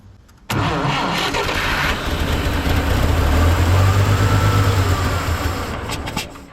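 An old 1958 Lull cherry picker, sitting unused for 15 years, has its engine crank and catch, settling into a loud, rough, steady running rumble close by before fading at the end.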